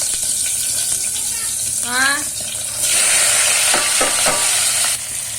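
Capsicum frying in oil in a pressure cooker for a capsicum curry: a steady, close sizzle with stirring clatter and a few scraping knocks, running throughout without clear talk.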